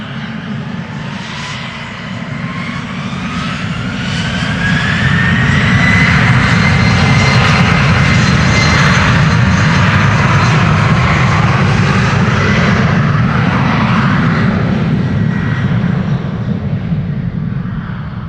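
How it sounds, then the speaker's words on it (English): A KLM Embraer 190 jet departs Amsterdam Schiphol Airport, its loud engine roar close and sustained, with a low rumble beneath a rising, sweeping whine that peaks mid-pass and then slowly eases. "However, first this little Embraer 190 to Brussels."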